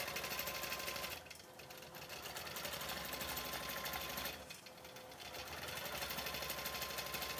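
A sewing machine stitching fabric runs in a steady, rapid mechanical rattle close by, pausing briefly twice before resuming the same fast rhythm.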